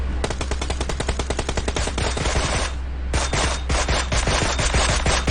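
Rapid automatic gunfire in a drive-by style shootout, long bursts of fast evenly spaced shots, loud and close, broken by a brief pause before another burst resumes.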